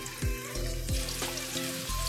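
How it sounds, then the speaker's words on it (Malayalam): Chicken pieces for a Kerala-style chicken fry hiss and crackle in hot oil in a pan, a steady close sizzle broken by a few sharp bursts as pieces are added one by one. "നമുക്ക് പാനിലേക്ക് നമുക്ക് ചിക്കൻ ഇട്ട് കൊടുക്കാം, നമ്മുടെ ഫ്രൈ ചെയ്യാനുള്ള ചിക്കൻ. വൺ ബൈ വൺ ഇട്ട് കൊടുക്കാം നമുക്ക്."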